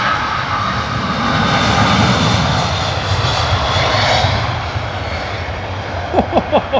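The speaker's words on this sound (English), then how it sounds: "Mate, listen to this 777 screaming." A British Airways Boeing 777 at full takeoff power leaving Heathrow, a loud, close, continuous engine roar that fades slightly near the end, where a few brief sharp clicks cut in.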